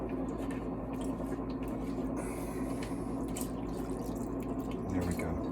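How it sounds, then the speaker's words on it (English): Water poured into a pan of stuffed peppers to rinse and cover them, a steady trickling and dripping stream running continuously at close range, with no talk over it. "rinse this with about another cup of water"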